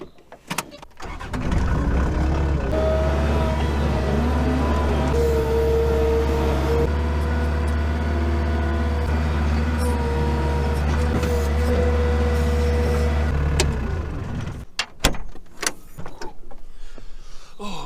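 A skid steer loader's diesel engine runs steadily on a vegetable farm, a loud close drone held for about twelve seconds with shifting tonal whine, then cutting off to clunks and quieter ambient noise.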